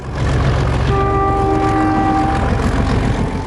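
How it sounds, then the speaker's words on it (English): A train on the Adelaide-Melbourne main line rumbles past nearby with a loud, steady low roar, and a horn-like tone sounds over the rolling noise. "From trains on the main Adelaide-Melbourne line"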